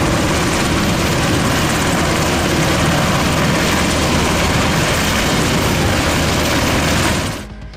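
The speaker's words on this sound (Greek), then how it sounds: "Λίγο μετά τις 2 τα ξημερώματα επιστρατεύεται ελικόπτερο του λιμενικού και ξεκινά από αέρος η επιχείρηση διάσωσής τους." A coast guard helicopter on a night sea rescue roars loud and close with a dense, steady rotor and engine drone, then cuts off abruptly near the end.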